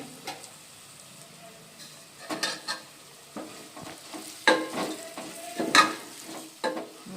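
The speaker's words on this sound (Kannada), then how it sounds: "ಇವಾಗ ಒಂದು 2 ನಿಮಿಷ ಫ್ರೈ ಮಾಡಿದರೆ ಸಾಕು ಮೊಟ್ಟೆನ" Four boiled eggs fry in a pan for egg biryani, heard as intermittent scraping and stirring bursts with a soft sizzle between them, close and otherwise quiet.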